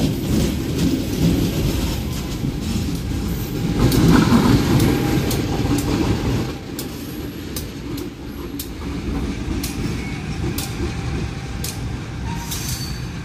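Shunting locomotive CC2018353 of the Jember depot works at Surabaya Pasar Turi station, a loud, continuous low rumble of engine and rolling wheels with faint metallic clicks as it passes.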